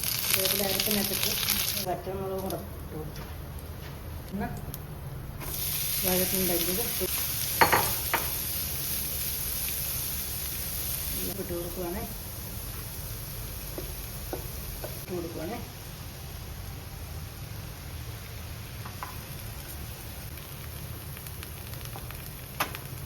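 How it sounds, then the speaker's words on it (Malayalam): Small onions and curry leaves fry in a pan for a thoroughfare-style stir-fry, a soft continuous sizzle with occasional stirring sounds while a person talks over it. "ചെറിയ ഉള്ളിയൊക്കെ ഇട്ട് കൊടുക്കുകയാണ് കറിവേപ്പില ഇട്ട് കൊടുക്കുന്നത്"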